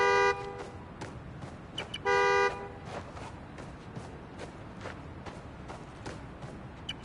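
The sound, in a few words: car horn honking, Marvel's Spider-Man: Miles Morales video game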